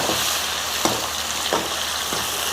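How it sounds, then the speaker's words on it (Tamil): Tomatoes with salt sauté in a pan, giving a steady bright sizzle with a few soft stirring scrapes at regular intervals, close and continuous with no talking. "இது வதங்கிட்டு இருக்கட்டும்"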